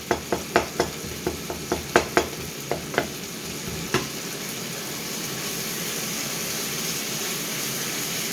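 A wooden spoon mashes cooked food in a pot, making a quick run of about a dozen dull knocks and scrapes over four seconds, then a faint steady simmer with no talking.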